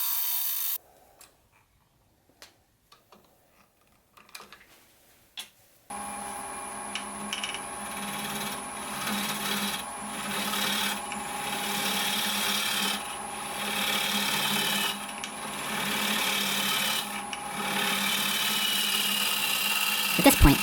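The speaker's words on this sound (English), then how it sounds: "At this point, you want to begin making small V-cuts to hollow out the material." Woodturning tool hollowing a pecan bowl on a lathe, a continuous rough scraping rasp over the machine's steady hum after a few seconds of quiet clicks, recurring in slightly louder passes.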